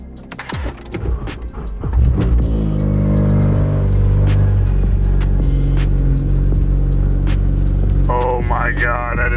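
A 9th-generation Honda Civic Si fitted with a KTuner engine tune starts up after a couple of seconds of rustling, then settles into a steady, close, rumbling idle hum with a faint whine near the end.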